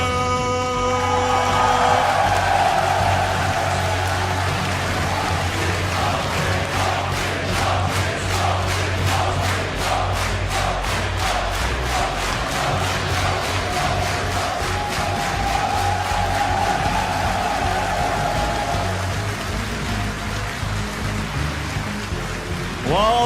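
A packed StarCraft 2 tournament crowd at a WCS Premier League semifinal roars and cheers steadily during player introductions, a dense, loud wall of sustained noise with rhythmic clapping pulses running through it.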